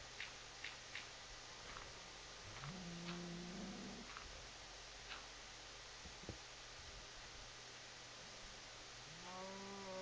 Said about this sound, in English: Come here, little cow.